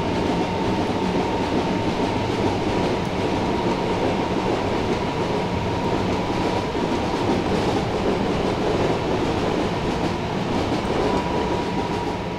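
Long passenger train running on the Brighton to Cambridge line in Train Simulator 2018, a steady loud rumble with rhythmic clickety-clack of wheels on rail joints continuing throughout.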